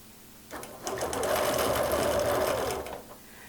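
A sewing machine stitches through a quilt with a darning foot against a quilting ruler, starting up and running a steady, fast mechanical whir for about two seconds before slowing and stopping, loud and close.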